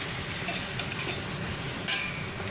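Pepper pot being stirred in a pot on a home stove, giving a steady, close scraping and swishing with faint sizzling underneath and one brief sharper scrape near the end.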